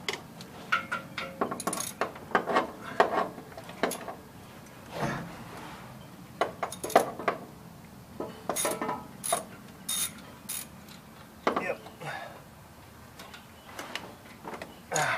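A ratchet wrench loosens exhaust header bolts in a series of quick, close clicking bursts with short pauses between them, no voices.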